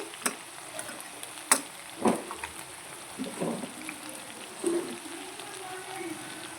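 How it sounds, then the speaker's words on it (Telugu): Ground masala paste is stirred into a country chicken curry with drumsticks in a pan, making soft intermittent scrapes and clatters over a faint low sizzle. "వేసుకుని బాగా కలుపుకోవాలి"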